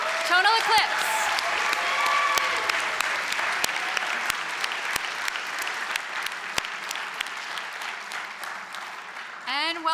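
A high school audience at a poetry slam finals claps steadily for the FHS a cappella group, a full, sustained room of applause lasting nearly ten seconds with a few sharp individual claps and faint cheering voices underneath.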